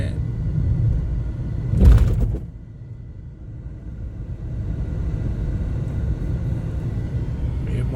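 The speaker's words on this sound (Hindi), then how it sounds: "ये सामने ट्रक जा रहे हैं" Heavy truck traffic rumbles past nearby on a town road at night, with a loud low whoosh of a truck passing close before the steady road drone continues.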